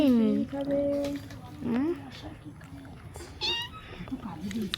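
A person imitates a cat, repeating meows in a steady series of drawn-out calls, close and clear with quiet background.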